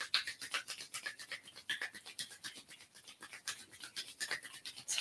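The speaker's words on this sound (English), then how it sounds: "Let's rub our hands together." Palms rubbing together quickly during a chair yoga warm-up, a dense, steady brushing friction with rapid back-and-forth strokes, close and fairly soft, heard alone without talk.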